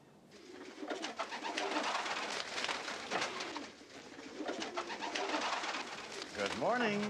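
Pet pigeons or doves coo repeatedly in a coop, soft rolling calls spread across several seconds with a rising and falling rhythm, near and moderately quiet, with a voice speaking over part of it.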